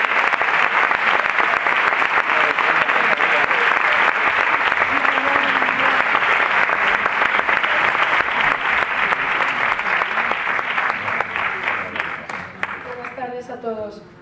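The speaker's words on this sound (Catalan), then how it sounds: "Un fort aplaudiment per a Daniela i Júlia." Sustained, dense applause from an audience at a children's festival presentation, loud and steady for most of the stretch before tapering off near the end, with faint voices mixed in.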